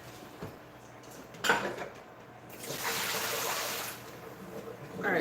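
Water runs from a kitchen tap into a pot for pasta, a soft hiss that swells for about a second and settles into a steady flow, with faint clinks of dishes and utensils nearby.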